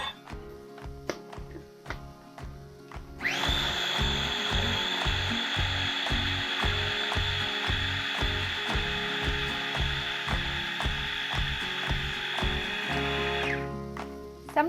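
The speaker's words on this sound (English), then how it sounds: "I like to give it a little puree first and see how much I'm gonna need." A blender purees garlicky beans, its motor starting with a rising whir and running steady and loud for about ten seconds before cutting off, with rhythmic clicking before it starts.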